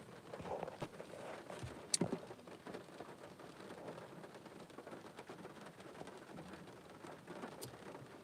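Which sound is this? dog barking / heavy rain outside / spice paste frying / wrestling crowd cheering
heavy rain outside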